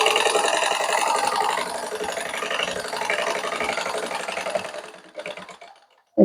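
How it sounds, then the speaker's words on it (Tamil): A sewing machine stitches a shirt seam in a steady, close mechanical whir for about five seconds, then slows and stops, with no talking. "சரியாக அரைஞ்சி கொடுத்து தைக்கணும்."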